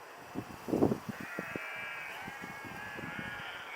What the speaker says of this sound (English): They'll probably start off with all this bleating